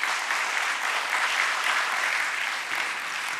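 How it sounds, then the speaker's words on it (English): An audience at a stock-exchange listing ceremony for Anand Rathi Wealth Limited applauds, an even, continuous wash of clapping heard from a moderate distance with no talk over it. "let's have a huge round of applause for them."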